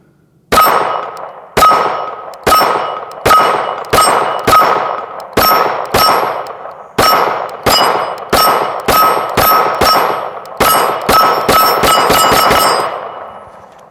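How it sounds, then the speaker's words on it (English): A handgun fires about twenty loud, sharp shots, each followed by a brief metallic ring. They come in a steady rhythm before a quicker burst near the end. "We'll shoot this thing a bit."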